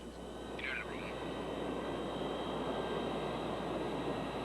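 Airplane taking off: a steady, loud, broad engine roar that holds level throughout, with a brief faint voice-like chirp near the start.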